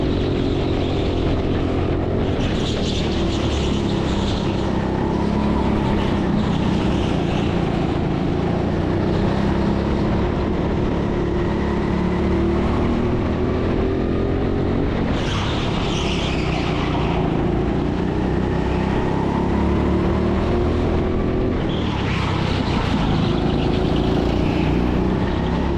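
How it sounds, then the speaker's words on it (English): Indoor go-karts racing around a track during a British indoor karting championship at TeamSport Sheffield, a loud sustained engine whine from nearby karts with surges of revving as they pass and accelerate, no voices. "So these karts are actually going quite quick at the moment."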